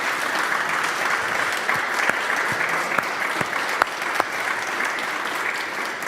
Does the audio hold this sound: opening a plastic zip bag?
no